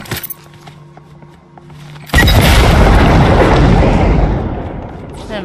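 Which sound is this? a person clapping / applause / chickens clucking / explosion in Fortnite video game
explosion in Fortnite video game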